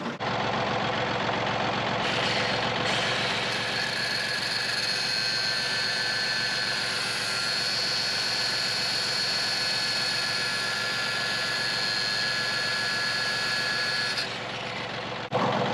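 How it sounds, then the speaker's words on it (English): A cordless DeWalt angle grinder cuts through a link of a diamond-studded tractor tire chain, a loud, steady, close whine with a faint hum that runs unbroken for about fifteen seconds before stopping. "So I'm going to have to go and get the angle grinder and grind that off again."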